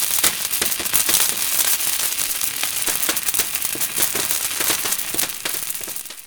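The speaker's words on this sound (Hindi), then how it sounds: "उस अंडरग्राउंड सुरंग में जाकर दिवाली के पटाखे जलाकर दिवाली" Diwali firecrackers set off inside an underground village tunnel, a dense, continuous crackling barrage of sharp pops and snaps, loud and close throughout.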